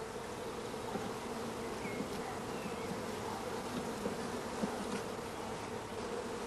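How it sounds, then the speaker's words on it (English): Honey bees swarm around hive frames as they are brushed into a funnel over a swarm collecting box, making a dense, steady buzzing hum throughout with no voices. "All bees of each frame are brushed into a funnel over the swarm collecting box."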